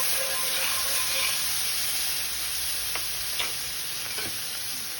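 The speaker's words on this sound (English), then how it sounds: "I'm going to stir this because I do not want my garlic to burn." Garlic frying in butter and oil in a pan hisses softly and steadily while a spoon scrapes and stirs a few times, with faint clinks near the end.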